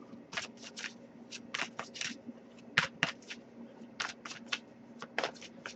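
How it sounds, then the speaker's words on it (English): Tarot cards are shuffled in a steady run of quick, crisp riffling bursts, close by and clear over a faint low hum, with no voices. "but I'll give it a few more shuffles"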